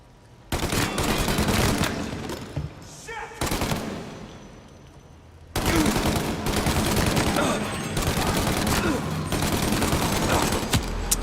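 Rapid bursts of gunfire from the Mafia video game, loud and sustained, with a short lull before heavy shooting resumes and continues to the end.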